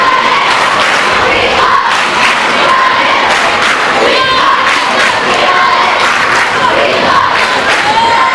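Home fans of the Little Giants, the student section among them, cheer and shout loudly and without a break through a high school boys' basketball gym during a tied game between Fremont Ross and Sandusky in 2004.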